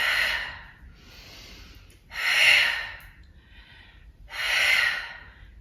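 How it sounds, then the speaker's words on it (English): Strong, audible breaths come during a fitness movement, with three loud exhalations spaced about two seconds apart and softer inhales between them, close and clear with no talking. "So make sure you're breathing with the movement."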